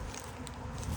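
A close, dense buzz of honey bees in a weak spring hive humming continuously for a brief moment.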